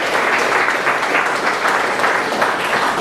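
A church congregation gives a strong round of applause during a sermon on Noah's obedience, with steady dense clapping filling the whole stretch at an even, loud level.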